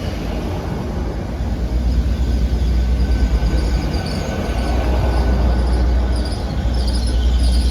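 Class 800 train 800-310 idling at a station platform, bound for Bristol Temple Meads, a steady loud low engine rumble with a constant hum and no speech.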